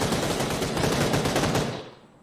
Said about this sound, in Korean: 와, 총소리 장난 아니겠다